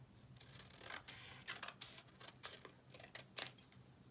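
Scissors cut a paper triangle into strips, a close, quiet series of crisp snips and rustling paper in an uneven rhythm, with no talking.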